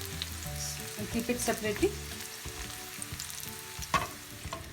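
Pieces of doodhi (bottle gourd) fry in hot oil with a continuous close sizzle and some stirring clatter, while a person talks over the cooking.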